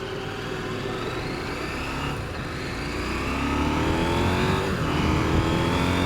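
Motorcycle engine on a ride, a new bike with smooth shifting and throttle response, droning steadily with rising tones as it accelerates through gears, plus wind rush, close and continuous with no talk.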